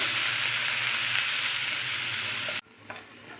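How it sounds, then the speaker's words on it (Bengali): Grated onion frying in a hot pan, a loud close continuous sizzle that cuts off abruptly near the end, followed by a couple of faint stirring scrapes. "একটু ভেজে নেব পেঁয়াজটা একটু।"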